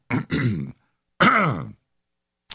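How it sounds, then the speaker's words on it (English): A person clears their throat close to the mic in a few rough, guttural bursts, followed by a brief pause and a tiny click at the end. "this is the point where I clear my throat"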